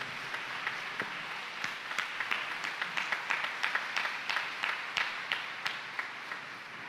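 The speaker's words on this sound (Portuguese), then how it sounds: "juntos vamos aplaudir com força a poderosa palavra de Deus." A church congregation claps together at a Portuguese-language service, a steady patter of many hands that builds slightly in the middle and carries on for several seconds without any voices over it.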